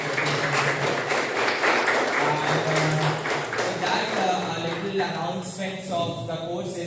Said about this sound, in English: So I would like everyone to give a big round of applause for